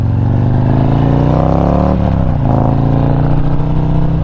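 A Harley-Davidson motorcycle fitted with a Chromeworks performance exhaust revs hard and close, a loud deep rumble that rises in pitch, dips briefly, then climbs and holds again with no talking.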